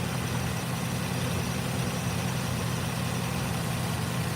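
A 2007 Ford Explorer with a 4.0L engine idles with a misfire, giving a continuous, dense, rumbling engine noise close to the listener with no pause or voices.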